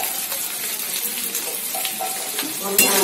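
Water poured into a cooking pot where turmeric and salt have just gone in, a steady close splashing gush running throughout and swelling briefly near the end.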